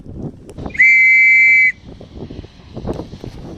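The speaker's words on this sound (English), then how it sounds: "So they blew the whistle a bit more." A handheld whistle blown once to summon a ferry across a Scottish loch, a steady shrill tone lasting under a second, fairly close, over faint outdoor background noise.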